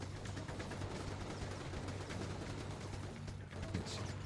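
Rapid gunfire crackles in the video game inFamous, a dense stream of quick shots in a fairly quiet, muffled game mix with no clear speech.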